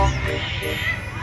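A person's voice imitates a chicken with one short, close, loud squawking call lasting about a second.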